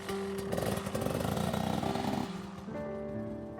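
An old motorcycle-tricycle engine runs steadily after starting, a continuous buzzing drone with a louder stretch early on, then easing to a slightly lower, even idle-like hum, heard up close without talk.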